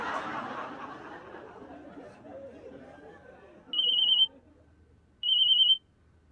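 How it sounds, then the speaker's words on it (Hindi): Two short electronic phone ring bursts sound close and clear, a second apart, after a fading stretch of mixed voices and soft laughter in a comedy sketch set outside a shop. "मेरा ना फोन आ रहा है"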